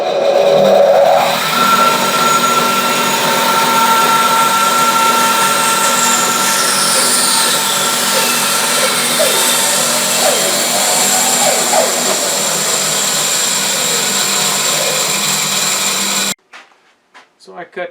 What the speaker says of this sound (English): But because I have this nice bandsaw jig, that's what I'm going to use.